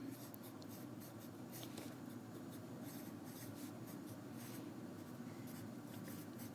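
Pen scratching on a piece of paper in short, steady strokes, quiet and close, over a constant low background hum.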